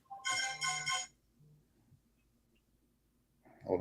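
A phone ringtone sounds in a short melodic burst of bright tones, followed by a quiet pause and then a voice beginning to speak.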